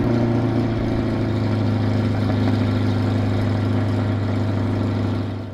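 A C8 Corvette fitted with aftermarket catalytic converters idles with a deep, steady, throbbing burble, loud and close, holding an even rumble until it eases slightly at the very end.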